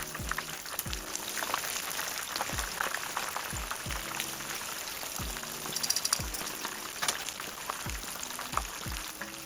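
Pieces of crispy fried chicken sizzling in hot oil in a pan, a steady close crackle and spatter with scattered pops, no voices.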